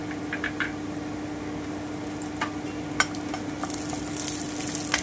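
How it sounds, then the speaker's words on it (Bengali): Onion and then garlic sizzle steadily in hot oil over a medium gas flame, with occasional sharp knocks and scrapes of a stirring utensil against the pan; no one talks. "এবারে আমি রসুনটা দিয়ে দিচ্ছি।"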